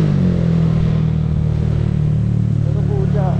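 A motorcycle engine revs hard and steady at close range, a loud continuous drone with a strong low throb throughout.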